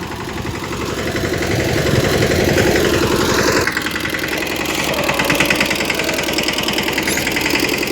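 A tractor engine runs steadily in a mustard field, a loud, close, continuous mechanical drone with a slight change in tone partway through and no talk.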